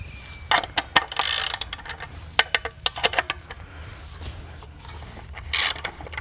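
Bolts are worked loose from a fence stretcher bar, producing a close series of sharp metallic clicks and rattling ratchet-like ticks in irregular bursts, with no talking.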